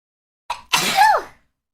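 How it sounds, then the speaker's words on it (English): A single close, sharp sneeze from a female streamer: a quick intake, a brief pause, then an explosive burst trailing into a falling vocal tone. "I just sneeze again."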